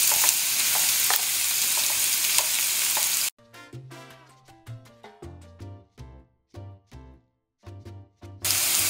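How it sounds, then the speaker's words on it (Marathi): Onions fry in oil in a pan for masoor dal with a loud, steady sizzle at the start and end, while the middle is taken over by melodic music. "कांदे आमी फ्राय करूया"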